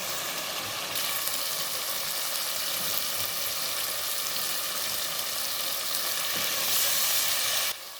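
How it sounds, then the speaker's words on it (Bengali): Fish frying in a pan of oil, a dense continuous sizzle at close range that stays loud and steady throughout, with no voices. "আবারও ফ্রাই করে মারব।"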